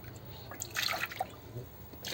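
The bottom of a greasy kettle is dipped into water during cleaning, giving soft close drips and small splashy trickles, loudest in the middle, over a faint background.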